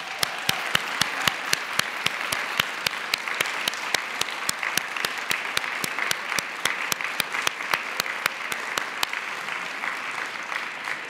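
Sustained applause from an audience honoring award recipients at a university inclusion and achievement luncheon, steady dense clapping for about ten seconds before easing slightly at the end.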